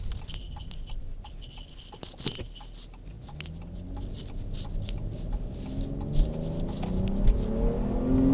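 A 2015 Dodge Charger with an 8-speed transmission accelerates from inside the cabin, its engine rumble swelling steadily over several seconds, with a few clicks and small knocks along the way.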